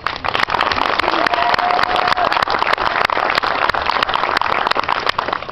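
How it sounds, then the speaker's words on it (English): An audience gives loud, continuous applause for the retiring chapter secretary at a Sunny Hills FFA officer retiring ceremony. Dense, crackling clapping fills the room for over five seconds. "So I think she deserves a round of applause."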